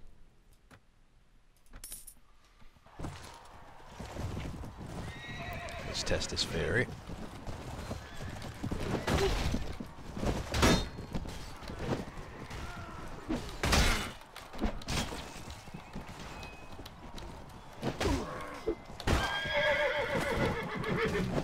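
Horses neigh and hooves clatter in the medieval combat video game Floris, repeated whinnies and clip-clop over battle clanks while someone talks briefly.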